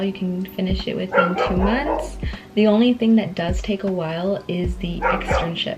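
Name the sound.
dog barking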